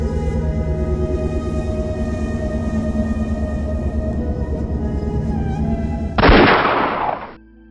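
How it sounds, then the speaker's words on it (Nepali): In a Nepali action film scene, a single loud, sharp gunshot bursts out after a long, sustained musical drone, rings briefly, then cuts off abruptly. "नत्र गोली हान्न बाध्य हुन्छु।"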